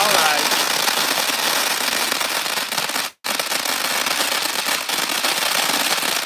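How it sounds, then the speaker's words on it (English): TNT and Phantom consumer fireworks finale at a live demo, a dense, continuous roar of crackling pops filling the air with one brief gap, loud and unbroken, with people talking under it. "I'm excited for the finale crackle on this."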